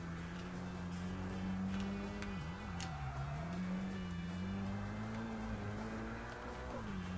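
A four-wheel drive car drives in Tokyo Extreme Racer Drift 2, its engine droning steadily and close with a buzzy tone that rises and dips slightly as speed shifts, continuous throughout.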